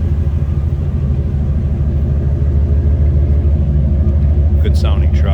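A 2001 GMC Sierra K3500 SLE crew cab pickup truck runs steadily, a loud, close, low rumbling engine drone with a brief higher chirp near the end.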